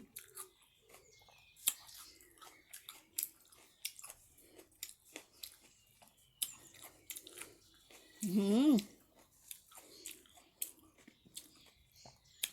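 Close crunchy chewing of tart gooseberries comes in brief bursts, with one louder crunch in the middle, among quiet mouth sounds and occasional soft murmurs.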